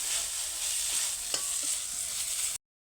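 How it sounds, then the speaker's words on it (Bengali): Spices and paneer curry fry with sauce in a pan, giving a steady, close sizzle that runs unbroken for about two and a half seconds before cutting off, with a faint stir partway through. "মশলাটা একদম ভাজা হয়ে গেছে"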